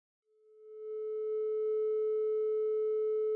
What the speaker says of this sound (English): the sine wave oscillator from VCV Rack is not just a pure tone